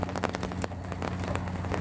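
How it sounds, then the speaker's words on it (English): Light rain falls outdoors under an umbrella, a steady broadband patter with scattered sharper drop taps over a constant low hum, with no voices. "We're having a light rainstorm, guys."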